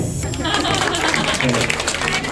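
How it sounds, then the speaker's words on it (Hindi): Applause from a crowd at a women's day celebration, a dense steady patter of many hands clapping, fairly loud, with voices mixed in underneath. "मेरे लिए जोरदार तालियां"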